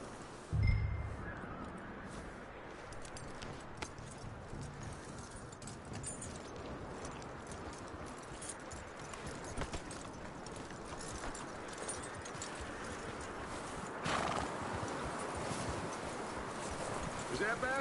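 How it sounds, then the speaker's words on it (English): Galloping hooves clip-clop steadily in Red Dead Redemption 2, a continuous rhythmic trot running throughout with a brief louder thump near the start; no clear neigh stands out. "That looks like a decent horse."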